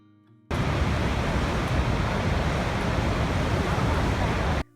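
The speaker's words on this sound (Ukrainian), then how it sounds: "Приклад білого шуму це звук водоспаду." Loud, even waterfall-like white noise rushes in abruptly, holds steady for about four seconds with no variation, then cuts off sharply.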